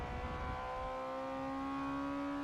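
A Ferrari F355 with a mid-mounted V8 pulls hard out of a chicane in second gear on a race track, its engine note rising steadily and loud and close, with no one talking over it.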